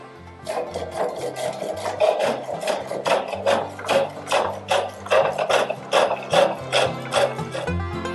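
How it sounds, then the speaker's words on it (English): Wood turning on a spring pole lathe at a historic village site, with a steady rhythmic cycle of loud rasping cuts, each stroke repeating about twice a second, close by. "I'm working on my spring pole lathe today."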